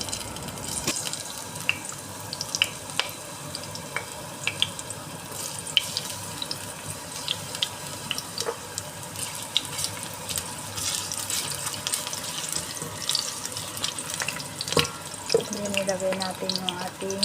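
Ginger sizzles in hot cooking oil while chicken adobo is prepared, giving a steady, fairly quiet hiss with scattered crackles that carries on throughout.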